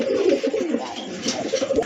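Light-coloured Sirazi pigeons coo at close range, a string of soft, throaty rolling calls repeating in quick succession with short gaps.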